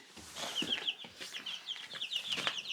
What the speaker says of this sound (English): Let's have a look at our chicks.